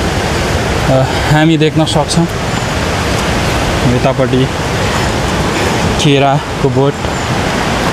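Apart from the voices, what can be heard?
rain falling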